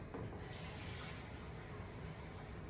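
Water runs steadily from a tap, a continuous faint gushing hiss, as a little more is added to masa for homemade corn tortillas.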